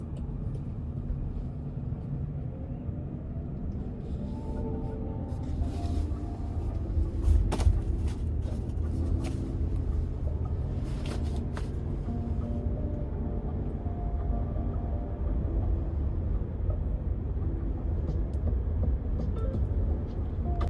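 Inside a Waymo self-driving robot taxi on the move, a steady low road rumble and cabin hum carry on throughout, with a few faint clicks and knocks over the engine-free drone.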